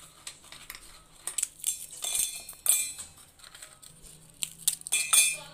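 Broken Parle-G biscuits tumbling into a steel mixer grinder jar, a run of hard clinks and rattles in irregular bursts, close and fairly loud, with no talking.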